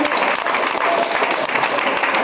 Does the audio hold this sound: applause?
yes